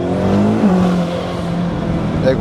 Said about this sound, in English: You can actually hear the turbo whistling a lot now.